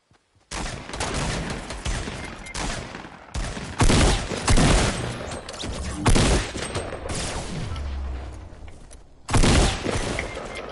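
Sniper and other gunfire in a squad-based shooter video game, loud sharp cracks and bursts arriving in clusters, some booming, over a constant background of battle noise without talking.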